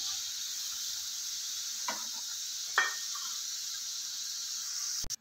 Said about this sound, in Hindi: अब इसी ऑयल में हम मूंगफली फ्राई कर लेंगे।